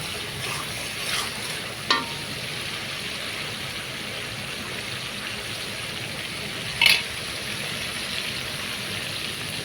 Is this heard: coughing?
no